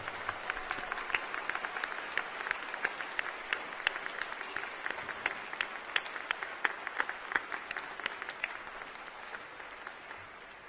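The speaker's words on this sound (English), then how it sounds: "Could we have a round of applause for all those most recent graduates?" Steady applause fills the hall for new bachelor's graduates at the University of New Brunswick convocation in Fredericton, with a dense patter of many hands, moderately distant, that tapers slightly toward the end.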